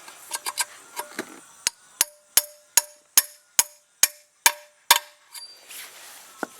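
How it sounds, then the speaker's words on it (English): A hammer knocks a punch into a 2003 Ford Explorer 4.0 5R55S transmission servo bore, about a dozen sharp ringing taps in a steady rhythm, close by, with a few lighter knocks before and after. "Take my punch. Find my hammer. Knock this one in."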